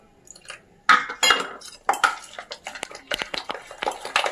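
Batter of egg, water and baking soda being mixed in a bowl at home, heard as a run of clinking, scraping utensil strokes against the bowl, close and moderately loud with no talk.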